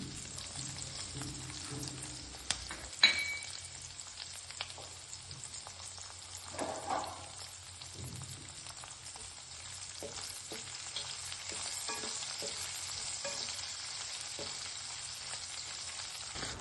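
Garlic and green chilies fry in hot oil for chilli chicken, giving a soft, steady sizzle with a few clinks and bumps of a spoon against the pan.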